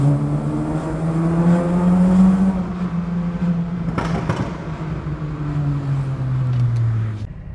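Car engine and exhaust echoing inside a tunnel while cruising, a loud steady low drone with rising and falling pitch as the revs change, plus a brief whoosh midway.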